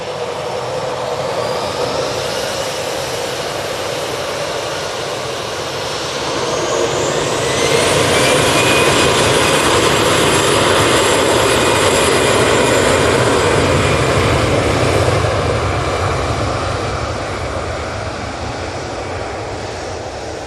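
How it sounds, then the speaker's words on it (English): An EasyJet airliner takes off from Manchester Airport, its engine roar swelling loud midway with a rising whine, then easing as it climbs away. "EasyJet off to Amsterdam"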